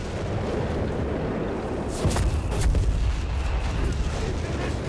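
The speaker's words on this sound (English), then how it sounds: "More artillery fire here." Artillery fire in the video game Company of Heroes 3, a dense rumbling wash of distant booms with a couple of sharper blasts mid-way, steady and moderately loud throughout.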